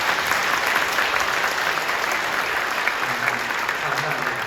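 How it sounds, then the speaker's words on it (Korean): A church congregation at a Korean Holy Week early-morning prayer service claps together in a dense, steady round of applause that fills the hall, with a voice faintly present beneath it. "박수 한번 해주시죠."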